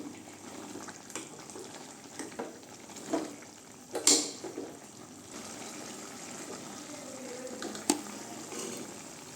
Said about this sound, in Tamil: உப்பு சேர்த்துக்கலாங்க கீரைக்கு சேர்த்து விட்டு நல்லா கிண்டிக்கலாம்